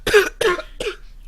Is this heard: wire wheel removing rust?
no